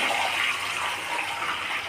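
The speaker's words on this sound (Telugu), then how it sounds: "2 గ్లాసులు బియ్యపిండికి 4 చెంబులు నీళ్ళు వేసి" Water pours steadily into rice flour in a pan while upma is cooked, a continuous close, moderate gushing splash with no pause over its short length.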